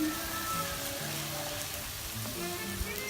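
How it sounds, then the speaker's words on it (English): Frozen corn with fresh chopped garlic, red bell pepper and onion sizzles and fries in a pan, a close, steady crackling hiss with faint popping and no talk. "You hear the sizzling? You see the corn"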